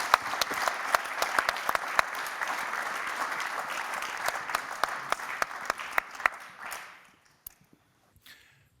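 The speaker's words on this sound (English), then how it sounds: "Let's give all of us a great applause." Applause from an audience at a wood and forestry summit, a steady bed of clapping with sharp individual claps standing out above it, gradually dying away over the last couple of seconds into scattered final claps and quiet.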